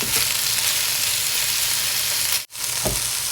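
Garlic and ginger paste sizzles loudly and continuously in a pan, the dense crackle breaking off for a split second before resuming with a light stir.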